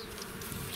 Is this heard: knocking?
no